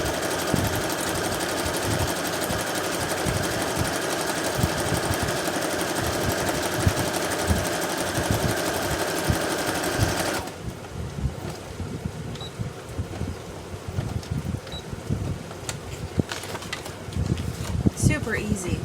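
A sewing machine runs a steady zigzag stitch through botanical journal pages, its fast mechanical whir continuous for about ten seconds, then stopping into quieter handling noises and some talk.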